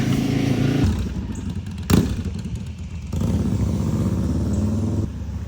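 Motorcycles pass by outdoors in a loud, steady engine drone with a brief sharp burst near the middle, the noise swelling and settling as riders go by.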